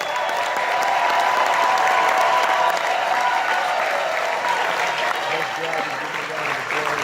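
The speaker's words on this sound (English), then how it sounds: "Let's give her a round of applause" A large convention crowd at an AFL-CIO gathering breaks into sustained applause, a loud, dense roar of clapping that holds steady for several seconds before easing slightly.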